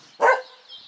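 A single sharp dog bark bursts out close by at an outdoor Sunday antiques sale, followed by quiet background.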